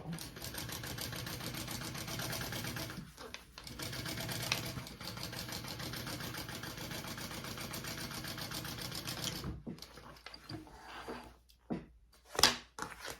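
A sewing machine stitches the top of a handmade bag closed, its rapid mechanical chatter running steadily for about nine seconds before stopping, followed by a few handling knocks and clicks.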